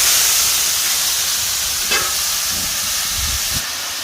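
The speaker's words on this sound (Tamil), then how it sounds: "எண்ணெய் கொஞ்சம் ஆட் பண்ணிக்கலாம், ஆனியன் ஆட் பண்ணிக்கலாம்." Onions fry in oil on a street-food griddle for kothu parotta, giving a steady close hiss and sizzle with a few soft knocks of cooking underneath.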